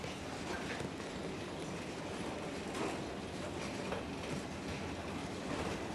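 Continuous rumbling roar of a single-ended heritage tram rolling along rails, steady and fairly loud throughout with faint rhythmic clatter.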